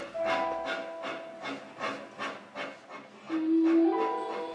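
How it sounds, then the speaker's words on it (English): An old passenger train from the early 1950s Korean War era, heading out of Seoul, chugs in a steady rhythmic beat with hissing and brief whistle-like tones, fairly close and with no talk. "they're preparing to ride this train back to their homes, back to their lives"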